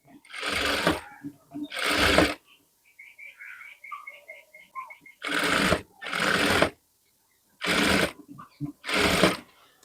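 A sewing machine runs in short rapid bursts while stitching a sleeping mask, its quick needle rattle clear and close between stretches of someone talking.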